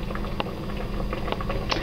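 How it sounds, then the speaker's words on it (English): Fish chowder soup bubbling in a pot, a steady low simmer with scattered soft pops and patters, fairly quiet and close, with no talking. "my soup is boiling"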